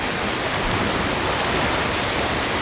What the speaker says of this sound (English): They can actually talk next to the waterfall.